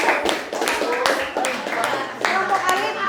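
Children clap for a student group during a Grade 7 class lesson, a short burst of scattered hand claps with voices and classroom chatter mixed in throughout.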